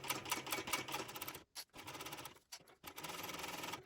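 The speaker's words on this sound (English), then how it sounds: "So now I'm going to go and stitch" Sewing machine running a seam on a shoulder bag, a fast close mechanical rattle in bursts with two brief pauses where the stitching stops, then resumes.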